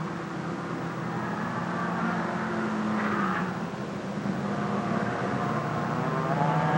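Vintage Mercury outboard racing boats running at full throttle make a dense, steady engine drone with a brief rise in pitch midway, loud and continuous with no talking.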